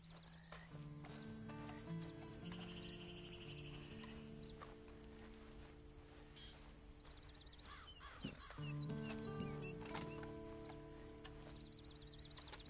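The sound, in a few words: horse in a video game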